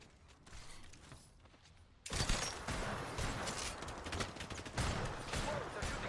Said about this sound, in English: Whoa, they're shooting at me.